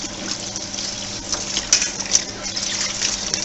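Tap water runs steadily into a kitchen sink as a bottle lid is rinsed while home-brewing a honey nut ale, a continuous close hiss with a few brief splashes.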